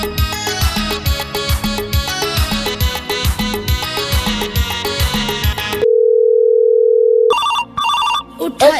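A cartoon telephone rings in rapid repeated electronic bursts, loud and close, then a long steady tone and a brief musical jingle follow.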